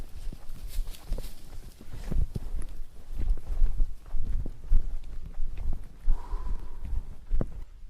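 A large flock of sheep crowds through a narrow crossing, many hooves clattering and shuffling continuously up close, with scattered animal movement sounds throughout.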